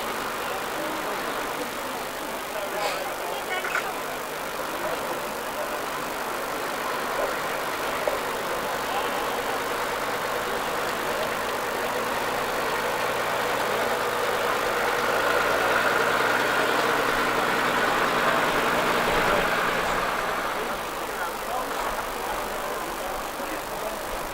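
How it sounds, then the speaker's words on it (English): A Super Comet tractor unit truck in SD Transport of Cottingham livery pulls in on a road run, its diesel engine a steady near rumble that swells midway, with a commentator talking over it. "that's pulling in now. Super Comet tractor unit in the livery of SD Transport of Cottingham"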